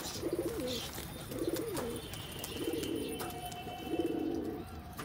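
Pigeons coo as they feed: four soft, rolling coos come at an even pace, each about a second apart, over a quiet outdoor background with faint chirps.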